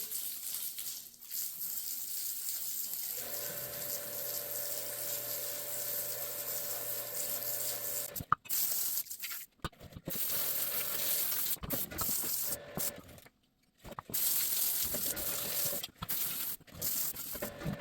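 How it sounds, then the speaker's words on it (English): Water from a hose sprays onto Toro mower deck spindles to rinse off cleaner and degreaser, a steady hiss broken by several short pauses and splashes as the stream is stopped and restarted. "I'll hit it real quick to rinse it, dilute it. Nice thing splashes."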